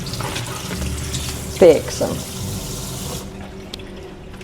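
Tap water runs steadily over soaked potatoes being rinsed in a kitchen sink, a continuous hiss with a brief louder splash partway through, while someone speaks briefly before the flow cuts off.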